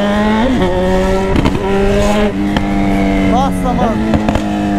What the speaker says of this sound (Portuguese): Eu de moto, nos corredores, andando, acelerando.